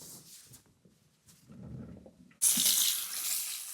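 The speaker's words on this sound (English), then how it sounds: "We can wash your hair and start." Tap water runs at a salon sink before a hair wash, starting abruptly as a loud, steady hiss after a few quiet seconds of soft handling noises.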